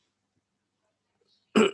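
A single short, abrupt cough bursts out close and loud after near silence, from a lecturer who has a slight cough.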